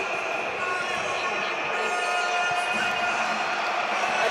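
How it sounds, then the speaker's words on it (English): A live arena crowd at a boxing event roars and cheers loudly and steadily, a dense wash of noise with excited voices throughout. "I want to take the headset off just to listen to this crowd when Mario gets announced here."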